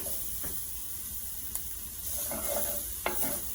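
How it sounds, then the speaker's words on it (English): Garlic and shrimp sauté in a hot skillet with a constant bright sizzle and hiss, broken by a few sharp clicks as the pan contents are stirred around. "just about a minute in a nice hot skillet until the garlic is fragrant."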